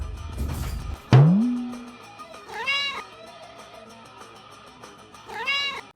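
A cat gives several drawn-out meows, one sharp and loud near the start and two more wavering calls later, close by.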